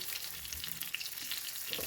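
Apple pancakes fry in a shallow layer of oil, giving a steady, close crackling sizzle with bright popping spatters throughout, and no talking.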